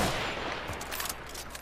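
Gunfire in the video game Hunt: Showdown: a run of sharp, fairly distant shots crackling over a steady, noisy background, with no voices.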